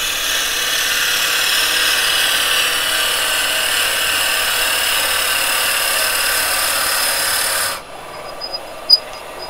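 A wood lathe turning a workpiece at just over 1,000 RPM, with a carbide chisel cutting it, producing a steady, loud, even rasping hiss. The sound stops abruptly near the end, followed by a few faint knocks.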